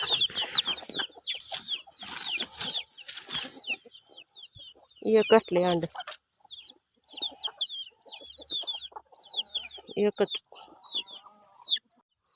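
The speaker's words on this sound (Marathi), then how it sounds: "इकडं बघा, क्रेटमध्ये एक कोंबडी बसली आहे, खुडकी." A broody hen sitting in a crate in a farmyard clucks in short, repeated bursts, close by and fairly loud, while people talk intermittently between and over the calls.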